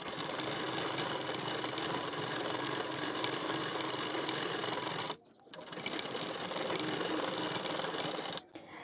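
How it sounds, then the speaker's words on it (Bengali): An electric sewing machine stitches the waistband of a blouse in a fast, even whirr, running steadily for about five seconds, pausing briefly, then starting again before a final stop; nearby and clear, with no talking. "করে একটি চাপ সেলাই দিয়ে নেবেন"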